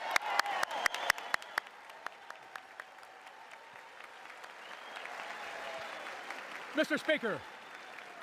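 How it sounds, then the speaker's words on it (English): Applause in the chamber of the United States Congress greets the President's arrival, with scattered sharp claps early on swelling into sustained clapping and crowd noise, while someone speaks over it. "everyone's clapping"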